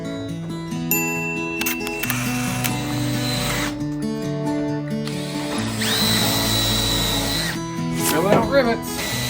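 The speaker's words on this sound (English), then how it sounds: "Drill out rivets." A power drill bores out rivets in the sheet metal of an Amazon Prime delivery van being converted to a camper, the tool whirring in several bursts over a loud, busy background with metallic clatter.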